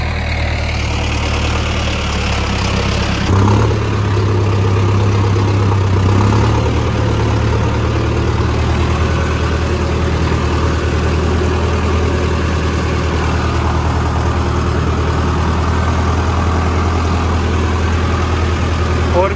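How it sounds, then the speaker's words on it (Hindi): Mahindra Arjun Novo 605 tractor engine running in four-wheel drive through mud, a loud steady low diesel rumble throughout with a brief surge near the start, and someone talks over it. "ये फोर व्हील लगा के चला रहे हैं क्योंकि कीचड़ जो है ज़्यादा है"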